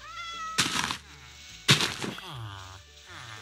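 Minecraft cat meowing in the video game, two loud, drawn-out meows followed by a softer trailing mew, close and clear with no talking.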